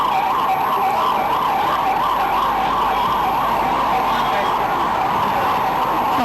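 Ambulance sirens at the launch of a free ambulance service in Madhya Pradesh, a loud, continuous wailing cycle close by that runs through the whole stretch over faint traffic noise.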